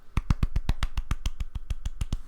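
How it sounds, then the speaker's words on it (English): Golf clap: about fourteen light, crisp hand claps in a quick, even rhythm, close and clear, with no talking over them. "Golf clap."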